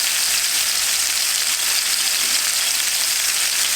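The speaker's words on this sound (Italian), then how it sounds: "Devono fare questa sfrigolatina, sentite il rumorino?" Tomatoes and bread sizzle steadily in a pan over a high flame, a dense, continuous frying hiss that stays close and loud throughout with no talk.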